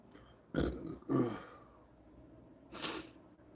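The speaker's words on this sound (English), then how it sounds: "feels like I almost got a burp" Two short, low, throaty bursts close together near the start, then a breathier exhale a moment later, with no talking.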